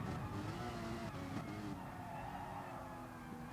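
GT4-class race cars in GT Sport slide through a corner, engines droning steadily with a faint tire scrub under a continuous motor roar, no talk over it.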